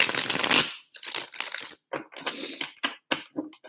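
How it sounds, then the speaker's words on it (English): Stiff, slightly sticky tarot cards are shuffled by hand in several quick bursts, close crisp riffling and slapping separated by short pauses. "These are a little sticky, so I just want to shuffle a few more times."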